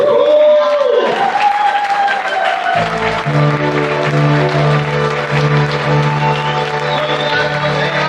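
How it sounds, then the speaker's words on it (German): Loud, sustained applause from a standing crowd at a carnival Hussar session, thick clapping with cheering, running alongside music with held tones for several seconds. "wenn wir uns alle ganz kurz erheben und mit einem ganz kräftigen Applaus Dankeschön sagen"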